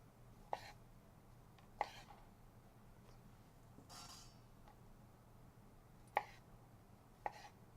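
A knife halves cherry tomatoes for a garden salad, giving four faint, sharp cuts spaced a second or more apart against a quiet kitchen background.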